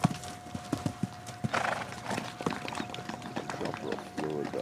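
Horse hooves clip-clop in irregular, close, sharp beats, with a neigh and people talking over them.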